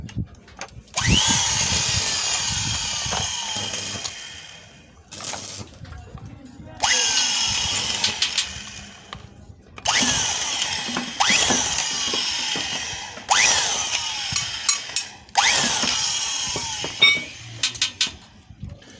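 A power drill with a 12mm bit whines in repeated bursts of a few seconds each, biting into metal, with short pauses between runs.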